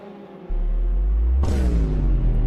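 A race car revs hard as a soundboard effect, bursting in as a loud, steady roar with a rising engine whine that fills the short stretch without pause.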